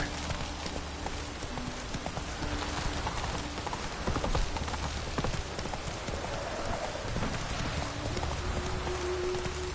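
Hooves of the horse Roach clip-clop steadily in The Witcher 3, a quiet, continuous trotting rhythm under faint ambient game noise, with no talk.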